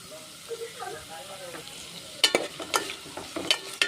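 Onions with salt being stirred in a pan for a village-style okra curry, a quiet sizzle under a soft voice, then sharp scraping strokes of a spoon against the pan in quick succession.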